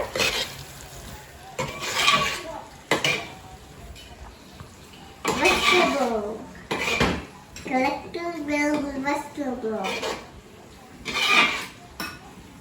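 Prawns being stirred into biryani gravy in a pot, with intermittent scraping and clinking of a spoon against the metal pot, while people talk and a voice is heard between the stirring bursts.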